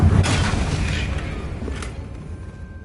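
A Confringo fire spell bursts in Hogwarts Legacy, one loud booming blast with a crackling tail that fades over a couple of seconds.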